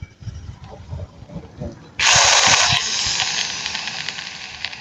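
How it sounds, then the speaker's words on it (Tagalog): An old, worn Johnson cordless drill with a wobbly chuck whirs on abruptly after a couple of seconds of quiet handling noise, then runs at a steady, close, hissing whine, easing slightly in level. "At ito rin yung isang barena ko na ginagamit."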